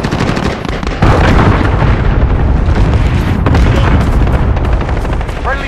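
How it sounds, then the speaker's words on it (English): A cruise missile strike in the Call of Duty: Modern Warfare video game, with loud, dense blasts and booming explosions in continuous succession over a rumbling battlefield din. "Allied cruise missile away."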